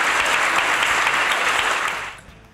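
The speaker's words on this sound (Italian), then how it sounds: "Facciamogli un applauso" An audience of students claps for an Olympic silver medallist at a school sports event, dense steady applause that fades out quickly near the end.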